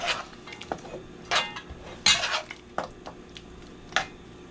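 Intermittent clinks and scrapes of a utensil stirring beans in a boiling pot, several sharp metallic knocks spaced irregularly, close by and fairly quiet.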